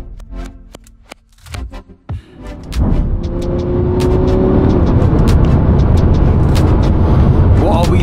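A Lamborghini Huracan engine starts up and settles into a loud, close, steady idle after a few seconds of door and cabin shuffling, with someone talking over the engine.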